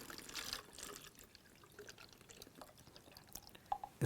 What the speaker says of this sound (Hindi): इस बोतल को अचानक उलट दें तो देखिए ये कैसे निकल रहा है।